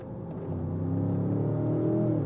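Range Rover Sport SV with a 4.4-litre V8 revving, a close, steady engine note that rises and holds for a couple of seconds with smooth harmonic rumble, muted and reserved in character, no talk over it.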